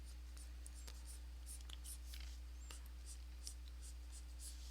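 A pencil sketches on paper with short, faint scratchy strokes at an irregular pace, quiet and close against a low steady background hum.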